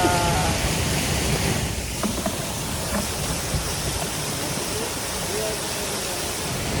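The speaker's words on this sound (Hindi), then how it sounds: "और बिल्कुल साथ ही वाटरफॉल्स हैं, you can see, super gorgeous." Rushing waterfalls beside a lake at Wadi Darbat near Salalah, Oman, heard from a boat as a steady broadband roar that fills the whole stretch without pause.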